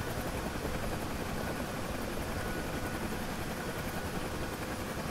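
Steady, loud whine and rotor roar of a Huey helicopter engine in the DCS flight simulator, a constant dense drone throughout with no talk.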